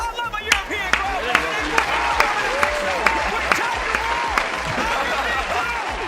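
A European esports watch-party crowd at a Rocket League RLCS Major cheers and applauds in a steady, loud roar, with sharp claps and whoops rising throughout and a voice shouting over the noise.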